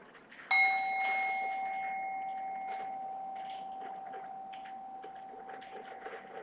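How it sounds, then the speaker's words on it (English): A meditation gong is struck once, ringing out with a bright metallic attack and a long, slowly fading hum that lingers for several seconds in a quiet room. "the sound of the gong"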